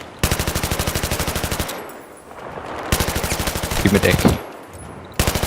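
Sustained automatic gunfire from a Battlefield 3 co-op match, loud and close, in long rapid bursts with a brief pause near the middle, while a voice speaks over it.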